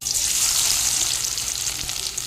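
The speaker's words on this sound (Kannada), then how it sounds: "ಇಲ್ಲಿ ತುಪ್ಪ ಬಿಸಿ ಮಾಡಲಿಕ್ಕೆ ಇಟ್ಟಿದ್ದೇನೆ ಇವಾಗ ಇದಕ್ಕೆ ಒಂದು ನೀರುಳ್ಳಿಯನ್ನು ಕಟ್ ಮಾಡಿ ತೊಗೊಂಡಿದ್ದೇನೆ ಅದನ್ನು ಹಾಕ್ತೇನೆ" Chopped onion frying in hot ghee, a steady dense sizzle with bright crackling hiss held at an even loudness throughout, close and with no voices.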